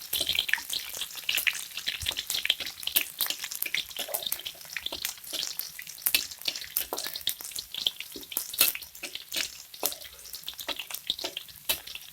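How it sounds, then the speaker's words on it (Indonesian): Shallots crackle and spit busily in hot oil as they sauté in a pan, a dense, close, continuous frying sizzle with no pauses. "kita tumis bawang merah sampai kuning ya sahabat"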